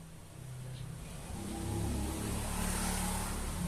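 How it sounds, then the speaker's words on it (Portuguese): Weekend street traffic with cars and motorbikes rumbles in a low, steady drone that grows slightly louder midway, fairly faint and with no voices. "Tem muito carro, tem muita moto."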